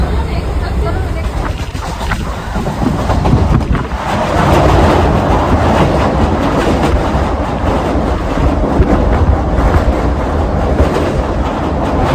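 A train runs along its rails, heard from on board as a loud, continuous broadband rumble that swells slightly partway through. People talk over the noise.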